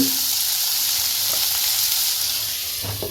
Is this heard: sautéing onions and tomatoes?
yes